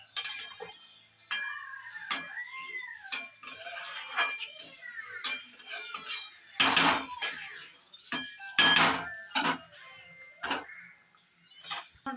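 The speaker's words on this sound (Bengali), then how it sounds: "1 চামচ মতো জিরের গুঁড়ো পড়লে নেড়ে নিচ্ছে ভালো করে" Ground cumin being stirred into a saucy curry in a pan with a metal spoon, a run of close clinks and scrapes against the pan with sizzling in between, briefly louder in a couple of spots.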